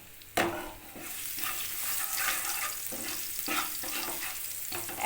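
Crushed garlic drops into hot oil with toasted five-spice seeds, setting off a sudden loud sizzle that settles into a steady close crackle with intermittent scraping stirs.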